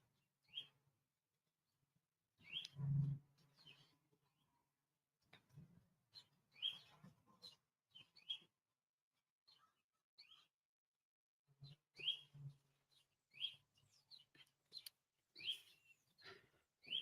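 Birds chirp outdoors in Wyoming in faint, scattered bursts of short high tweets, with one low thump early on and quiet gaps between calls.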